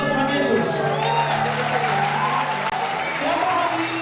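A youth church congregation at an HKBP revival service applauds steadily and loudly, a continuous wash of clapping with a few voices calling out over it.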